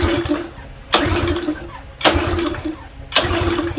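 Troy-Bilt small engine cranked three times in a cramped garage, each pull giving a sharp burst of sputtering engine noise that fails to catch and dies away between attempts.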